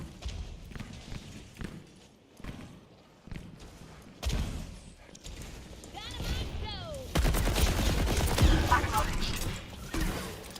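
Overwatch gunfire erupts as rapid bursts of shots and mechanical clatter, mixed with ability sound effects and game voice lines. It grows denser and louder toward the end.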